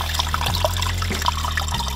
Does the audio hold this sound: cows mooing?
no